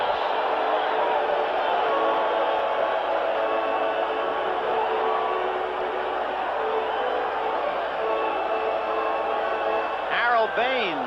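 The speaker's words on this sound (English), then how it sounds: "now even the White Sox fans are cheering for Morris" White Sox crowd at a Chicago ballpark cheering for Detroit Tigers pitcher Jack Morris during a 1984 game, a loud, steady wash of distant applause and voices that lasts throughout, with a broadcast voice talking over it.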